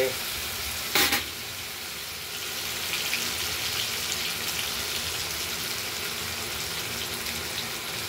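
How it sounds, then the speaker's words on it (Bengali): Ground spices and turmeric frying in a kadai for a cauliflower, potato and tomato curry give a steady, close sizzle throughout, with a brief clatter near the start. "কষানোর জন্য দিয়ে দিলাম মশলাগুলোকে কড়াইতে"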